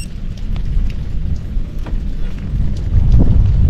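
Rain falls steadily during a bike ride through the French countryside between Faux-la-Montagne and Mont-Dore, a dense close wash mixed with rumbling wind buffeting the microphone.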